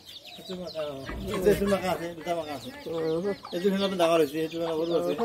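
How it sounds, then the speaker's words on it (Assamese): Hens cluck and chatter in a steady, busy stream among many chicks under a tree, fairly close, with a voice talking over parts of it. "ইমান মুৰ্গী এইফালে গছৰ তলে চলে"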